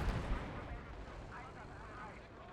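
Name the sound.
mortar fire in video game Gates of Hell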